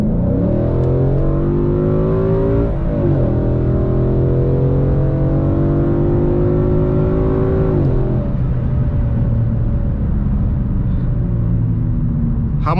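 Ford Mustang GT 5.0 V8 accelerating hard in Track mode, a loud, close engine note climbing steadily through the revs, with brief dips at two gear changes before pulling on again.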